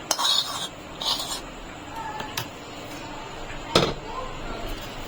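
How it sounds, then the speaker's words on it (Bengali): Yogurt, milk and mango are mixed in a bowl with a spoon, giving intermittent clinks and scrapes of metal on the bowl over soft kitchen background noise. "এর মধ্যে দিয়ে ভালো করে মিশিয়ে নিচ্ছি"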